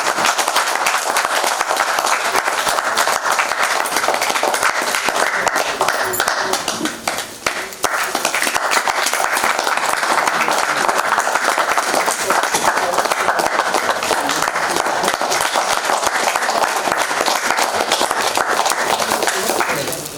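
Sustained audience applause at a stage performance event honoring a chief guest, a dense, continuous clatter of many hands lasting about twenty seconds, with a brief dip partway through before resuming at full strength.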